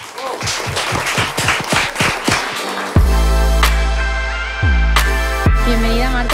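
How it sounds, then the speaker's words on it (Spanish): Studio audience applauding a guest on a talk show, a burst of dense clapping that gives way to sustained loud musical tones with sharp accented hits. "Fuerte aplauso para ella."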